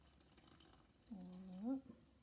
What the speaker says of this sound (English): I'm going to add my 2 cups of lukewarm water